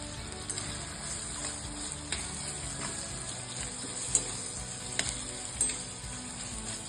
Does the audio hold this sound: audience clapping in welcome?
no